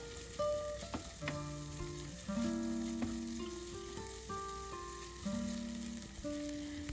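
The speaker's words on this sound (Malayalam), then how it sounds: "അതിലേക്ക് ഒരു സവാള സ്ലൈസ് ചെയ്ത് ചേർത്ത് നന്നായിട്ട് വഴറ്റുക" Sliced onion sautés in oil in a pan, giving a soft, steady sizzle with faint stirring scrapes; distinct tonal sounds ring over it, and no one speaks.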